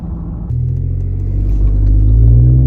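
A Ford F-150 EcoBoost pickup with a Diablosport tune accelerating at roughly half throttle, its engine rumble jumping louder after a half second and building steadily, deep and close, with no talk.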